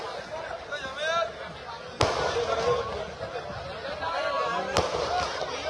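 Firecrackers go off at a political public meeting, two sharp loud bangs a few seconds apart over crowd noise and someone speaking to the gathering.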